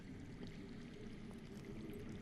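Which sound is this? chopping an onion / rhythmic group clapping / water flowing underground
water flowing underground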